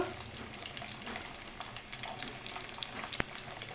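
Soft, continuous frying sizzle of onion pieces and tempering spices in oil, with scattered crackles and pops, fairly quiet and steady, with one sharp click near the end.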